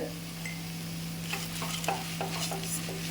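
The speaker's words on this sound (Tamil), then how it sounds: "இது கூடவே சேர்த்து நல்லா ஒரு வதக்கிக்கலாம்." Raw mango chutney ingredients sautéing in a pan, with soft sizzling and repeated spoon-stirring scrapes over a steady low kitchen hum, close and alone with no talk.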